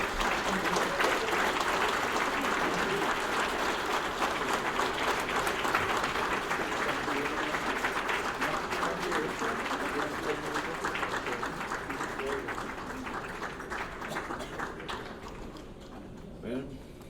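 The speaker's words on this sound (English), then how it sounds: "please stand up and give a rousing applause to the couple" An awards-ceremony audience applauds a couple who have been asked to stand, the clapping dense and sustained for about seventeen seconds before gradually thinning toward the end, with some voices mixed into the crowd noise.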